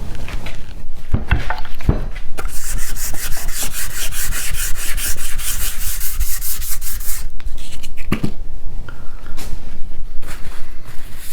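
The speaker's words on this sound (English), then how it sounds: "And as I continue to sand, those shiny spots will get smaller and smaller until the entire surface has that flat matte" Hand sanding the finish level on a six-string multi-scale guitar body, a loud, close, continuous rhythmic rubbing with steady back-and-forth strokes and a few knocks.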